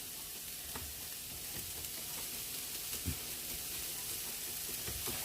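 Egg roll filling sizzles on a heated stone grill set to 350, a steady faint frying hiss with occasional soft stirring taps.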